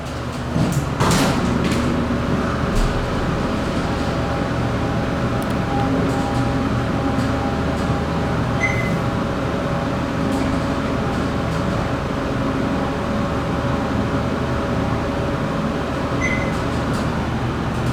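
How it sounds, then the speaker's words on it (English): Dover hydraulic service elevator motor runs with a steady low hum and drone, continuous and fairly loud, with a knock near the start and faint clicks later. "Now let's be quiet, hear this motor if we can."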